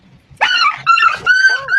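A dog lets out three loud, high yelping barks in quick succession, close and clear, with short gaps between each cry.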